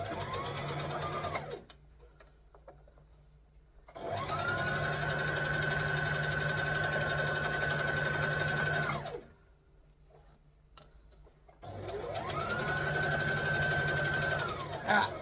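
Sewing machine stitching fabric in three long bursts of steady, fast whirring at an even pitch, separated by short quiet pauses, close and loud.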